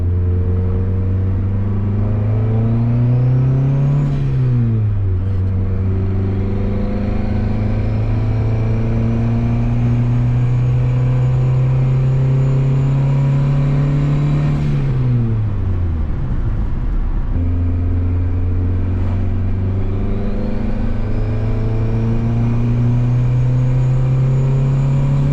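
A turbocharged Honda Civic engine pulls hard through the gears on a test drive, its loud drone rising in pitch and dropping at each shift, with a turbo whistle audible at the top of the runs.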